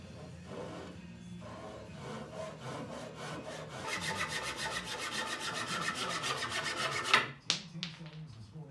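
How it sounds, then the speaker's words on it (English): A handsaw cuts through the legs of an oak and walnut bar stool, with a slow rasping scrape that builds into quicker, rhythmic back-and-forth strokes and ends with a couple of sharp final strokes. It is close by and no one speaks. "I know where to cut with the handsaw and get this stool nice and level"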